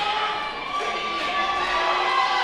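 A wrestling arena crowd cheers and shouts steadily, a dense roar of many voices sustained throughout without a break.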